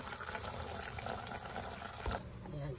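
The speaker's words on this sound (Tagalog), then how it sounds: "Ito lagyan ng tubig para ilagay ko ang cabbage dyan." Water pours into a pot of pork being cooked with cabbage, a continuous bubbling fill that is fairly quiet and close, stopping near the end.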